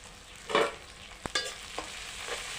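Goat head curry in a pan gets a few scraping stirs, one sharp knock of the spoon and a low background sizzle.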